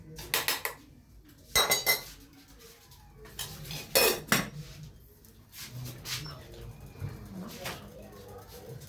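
Pickled fish ingredients are mixed in a pot, with sharp metallic scrapes and clanks of a utensil against the pot in irregular bursts, close and fairly quiet, with faint talking in places.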